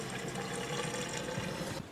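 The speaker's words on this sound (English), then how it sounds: "Jake, it sounds like the water's coming up to the top." Water rushing into a tank aboard a sailboat and rising toward the top, a steady dense gushing that stays loud and constant before dropping away at the very end.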